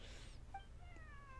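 A small kitty meows faintly in the Genshin Impact game world, a short, high, sliding call over a low background hum.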